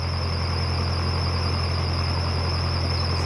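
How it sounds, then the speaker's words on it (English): A squeaky boat engine runs steadily, a constant high-pitched squeal riding over a low mechanical hum, unbroken throughout. "we'll come past with our squeaky engine"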